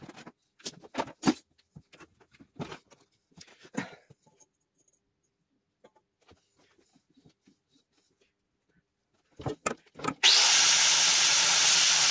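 Homemade exhaust pipe sanded by hand, giving scattered rough scraping strokes that fall quiet, then a loud continuous grinding or sanding burst near the end, close up with no talk.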